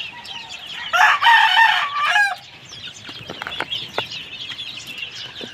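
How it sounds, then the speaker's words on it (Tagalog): Caged chicks and chickens give out a loud burst of clucking and crowing squawks close by, and fainter scattered peeps and clucks follow. "Puro mga sisiw yan. Nakakulong sila."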